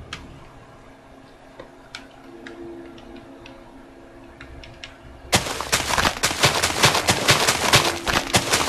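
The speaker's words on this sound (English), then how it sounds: "This better be a big explosion." Block explosions from TNT in the Minecraft video game erupt as a loud, dense burst of crackling blasts about midway through, following a stretch of quieter scattered ticks and clicks.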